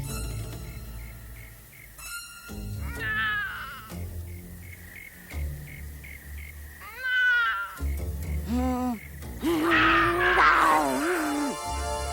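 Cartoon-style cat meowing, several drawn-out wavering meows and a yowl rising over background music, close and fairly loud with no talking.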